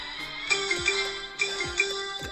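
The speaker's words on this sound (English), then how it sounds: "Got some little notifications going on because I'm a pro recorder." Fantasy football alerts ping on a phone as a few short, bright notification chimes in quick succession over a steady tonal background.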